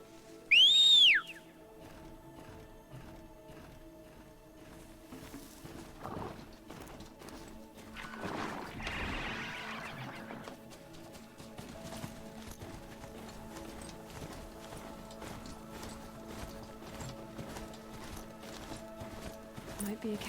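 In Horizon Zero Dawn, a sharp rising whistle rings out, then hooves clip-clop steadily at a moderate distance, continuing rhythmically with faint background ambience.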